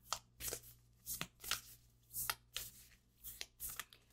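Tarot cards shuffled by hand in a series of soft, quick riffling bursts spaced about half a second apart, close but quiet, with a faint steady hum underneath.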